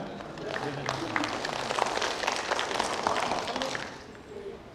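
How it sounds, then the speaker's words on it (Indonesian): An audience at a senator's public address breaks into scattered applause, a moderate, sustained patter of hand claps that swells and then fades, with voices mixed in underneath. "Yang belakang boleh juga tepuk tangan."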